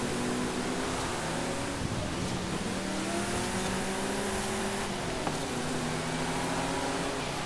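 A race car engine in the Forza Horizon 5 racing game drones continuously at high revs with long gearing, a loud steady tone with faint upshifting pitch sweeps and no talk.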